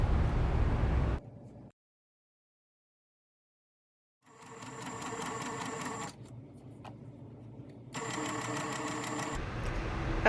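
A sewing machine runs a zigzag stitch over fabric to reattach a serged shoulder seam, in two close mechanical bursts of rapid rhythmic stitching separated by a pause.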